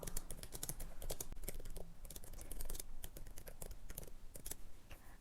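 Fingers type quickly on a computer keyboard while writing a comment to an editor, producing a dense, continuous run of close key clicks with brief pauses.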